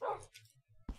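A dog bark in Minecraft: a short loud yelp at the start, a few faint low follow-ups, then another sharp bark near the end, all close and clear.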